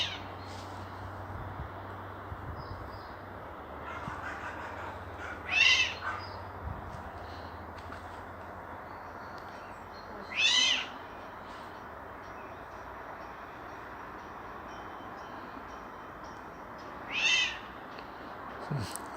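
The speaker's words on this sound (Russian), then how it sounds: "Я сначала подумал, что это кот кричит. А это оказалась птица." An unidentified bird gives three separate screeching, cat-like calls spaced several seconds apart, each short and fairly faint over a quiet outdoor background with a low hum early on.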